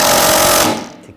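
An 18mm socket spins off the sway bar link nut on a 2009-2017 Volkswagen Tiguan, giving a loud, steady, harsh rattling buzz up close that runs for most of a second and then cuts off and fades.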